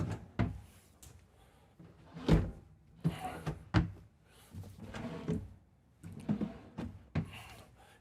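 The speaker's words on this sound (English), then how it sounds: "You have 5 real nice deep dresser drawers," Deep soft-close dresser drawers in a 2023 Newmar Ventana 4369 motorhome slide and settle shut, producing a series of muffled thunks and bumps spread irregularly across several seconds, close by with no talking.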